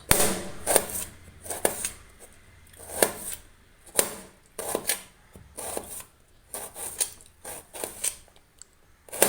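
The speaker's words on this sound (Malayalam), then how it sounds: "ഇതും ഒന്ന് തോല് ചെത്തി എടുക്കാം വളരെ തിന്നായിട്ട് മുറിച്ചെടുക്കണം" A knife slices peeled fruit thinly for a vegetable salad, producing a quick series of sharp cutting strokes against a board in uneven bursts, close and fairly loud.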